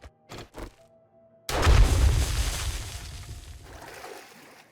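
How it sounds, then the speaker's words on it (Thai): Explosive barrel shot and exploding in the video game 7 Days to Die: a few short gunshot pops, then a loud booming blast that rolls into a long decaying rumble, no speech. "เดี๋ยวกูยิงถังระเบิด"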